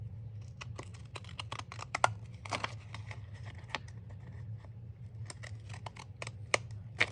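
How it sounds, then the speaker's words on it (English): Scissors snip along the edges of journal pages in quick, quiet, irregular cuts close by, with a low steady hum underneath. "And then this side, let's cut this side"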